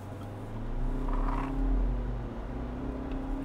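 A GWM POER Sahar HEV hybrid pickup accelerates with a low, steady engine and drivetrain hum that swells slightly, heard from inside the cabin with no talk.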